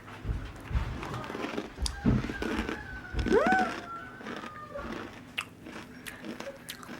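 Someone crunching spicy, crunchy noodle snacks indoors, repeated loud close bites and chewing crunches in irregular bursts over several seconds, with a high squeaky sound in the background.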